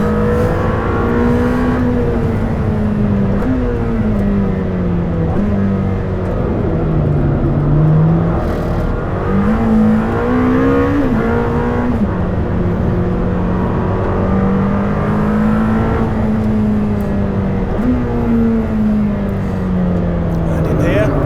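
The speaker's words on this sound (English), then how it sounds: "You can see the Lamborghini test driver drifting as well in front of me." A Lamborghini drifts nearby, its engine droning and rising and falling in pitch continuously under a person talking throughout.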